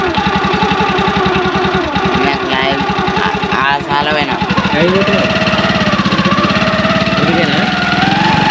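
A motorcycle engine idles steadily at close range with an even low throb throughout, while people talk over it in a village setting.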